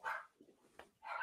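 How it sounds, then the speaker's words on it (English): Dogs bark in two loud bursts at the start and end of the moment, with a softer yelp between them, heard nearby in a podcast studio setting and not under any talk. "I'm about to corral these fucking dogs if they don't shut the fuck up."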